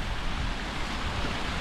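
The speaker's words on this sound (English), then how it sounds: "Waterfalls everywhere." A waterfall in the Brecon Beacons on a cold, sunny day makes a dense, even rush of water, loud and close, with no other sounds over it.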